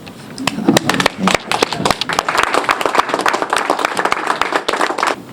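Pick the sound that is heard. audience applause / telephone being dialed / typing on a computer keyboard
audience applause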